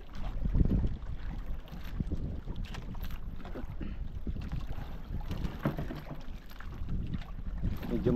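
A small boat moves over windy, wavy water, with steady rumbling wind buffeting the microphone, irregular thumps and splashes of the hull, and a continuous engine-like drone close by.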